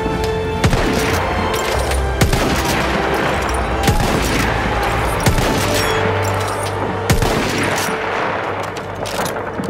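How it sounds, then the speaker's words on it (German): Sustained machine gun fire in a Battlefield 1 World War I battle at Vittorio Veneto, steady chattering bursts with sharp heavier booms every second or so, loud and continuous with no speech. "Maschinengewehr, eindeutig feindlich."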